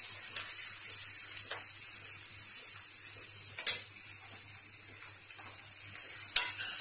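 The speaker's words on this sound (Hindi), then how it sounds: "फ्लेम हम मीडियम करके भूनेंगे, नहीं तो हमारे मसाले जल जाएंगे" Masala paste for mutton kofta rezala fries on a medium flame, making a soft, steady sizzle with a few faint clinks and two sharper taps from a stirring spoon, without talk.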